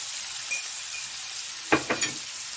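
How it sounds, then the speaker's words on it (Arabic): Chicken gizzards and hearts with black pepper sizzling in a pan. A steady hiss is broken by a few clear spatula scrapes and knocks as they are stirred. Close by, with no voices. "نقلب فيها بقى لحد ما تحمر كده"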